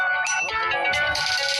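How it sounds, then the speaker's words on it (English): A mobile phone ringtone plays loud and close, a bright electronic melody filling the moment with no talk over it. "My phone was ringing."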